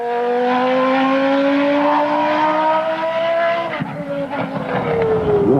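A 1991 Williams FW14 Formula One car driven by Nigel Mansell at Silverstone, its engine holding a loud, steady high-pitched whine that sinks slightly, then a sharp gearshift and renewed revving, close and continuous.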